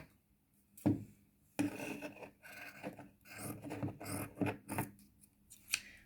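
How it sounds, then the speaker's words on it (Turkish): Scissors snip through a strip of fabric cut for lengthening a dress sleeve, giving several close, crisp cuts with rustling of cloth between them, no voices. "o genişlikte bir parça kesiyoruz burada"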